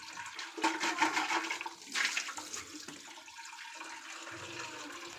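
Dirty water gushing and splashing out of a reverse osmosis purifier's filter housing during servicing, a loud broadband rush with bursts of pouring that settles into a steady trickling flow.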